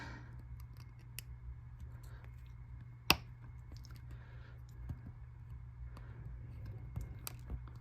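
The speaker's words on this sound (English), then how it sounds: "take my X-Acto knife and I just cut off the pieces like that. And then I'll just cut the ties" An X-Acto knife cuts the ties of N scale model railroad track, giving one sharp click midway and a few faint ticks over a steady low hum in a quiet room.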